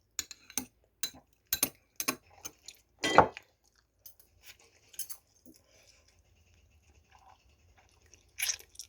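Jin Ramen noodles being eaten close up: intermittent crunchy chewing and bites, a sharper clink of utensil against a bowl, then quieter slurps and chews with pauses in between.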